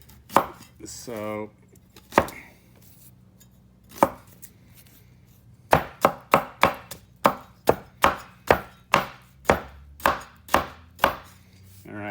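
A knife chops fresh ginger on a cutting board: a few scattered strikes at first, then a steady run of about a dozen crisp, close chops. A brief word is spoken near the start.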